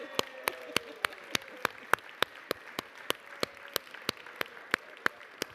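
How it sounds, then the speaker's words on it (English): Sharp, evenly spaced claps ring out at a steady beat, like one or two people clapping, in New York City Council chambers at City Hall, over a low murmur of room noise. "we give a round of applause to baby Sanchez and baby Gutierrez"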